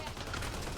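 A gunshot lands a headshot in a sci-fi video game: dense, continuous firing fills the short moment with no pauses, with game sounds layered in.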